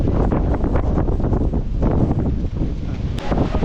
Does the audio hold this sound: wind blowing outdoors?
yes